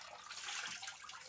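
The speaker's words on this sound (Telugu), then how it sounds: "వాటర్తో ఆడుతున్నావు కదా?" A child plays with water running from a tap, a steady close splashing and gushing that holds for the whole short stretch without pause.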